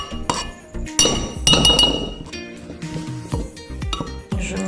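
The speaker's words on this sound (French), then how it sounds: "Et je mélange le tout." A spoon stirs curry and spices together in a cooking pot for Comorian coconut-milk chicken rice, producing close, sharp metallic clinks and scrapes in an irregular rhythm, loud and without talk.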